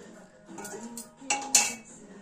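A metal lid lifted off a pot of kadhi pakoda, giving a few light clinks and scrapes of metal on metal, the sharpest one near the end, heard fairly close over quiet kitchen background.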